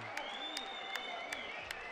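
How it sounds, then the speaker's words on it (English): An arena crowd roaring and applauding after a knockout at an MMA fight, a dense sustained wash of cheering with a few sharper claps standing out. "And the crowd goes crazy."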